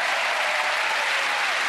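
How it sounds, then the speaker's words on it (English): Audience applause for a magic act at a Penn and Teller show, a dense continuous clapping from a large crowd, steady and loud throughout. "A nice round of applause for Jim."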